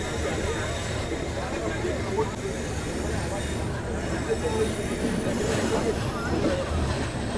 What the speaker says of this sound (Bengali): বন্ধুরা, আমার ট্রেন ঢুকছে দীঘাতে।